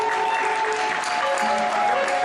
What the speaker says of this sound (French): Applaudissez pour notre père.